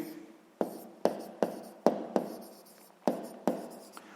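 A pen or pencil writes on paper while a maths exercise is worked out, giving a close series of sharp taps and short scratchy strokes in an irregular rhythm, with no talking.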